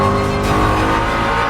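A race car roars past on a circuit, a loud continuous engine note with a slight pitch shift as it goes by, close and unbroken for a brief moment with no talk.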